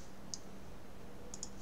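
A computer mouse clicking: three tiny, faint clicks, one alone and then a quick pair about a second later, against a quiet room hum.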